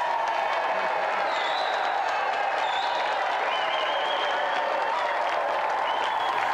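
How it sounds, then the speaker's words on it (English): A television studio audience applauds on a games show, a steady wash of many hands clapping at moderate volume that holds evenly from start to finish, with faint background voices under the clapping. "Another round of applause for Marlon Rose!"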